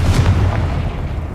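A Confringo fire spell bursts in Hogwarts Legacy with a single loud, close, deep boom that fades quickly into a rumbling tail.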